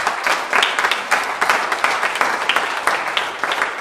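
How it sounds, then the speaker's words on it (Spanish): A church congregation applauds loudly and steadily, with dense, continuous clapping that swells in bursts throughout. "Dale un fuerte aplauso al Señor."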